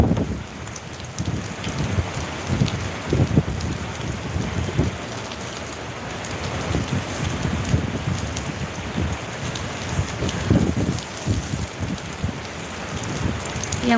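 Heavy rain pours steadily in Sorong, Papua, a dense, even hiss of drops drumming on surfaces, with gusts of wind buffeting the microphone throughout.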